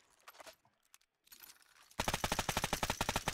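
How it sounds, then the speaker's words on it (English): Rapid automatic gunfire from an Arma 3 rifle, fired while a reload is still in progress: quieter handling clatter first, then a loud, steady burst of evenly spaced shots filling the last second and a half. "I can already fire while the reload is still going on."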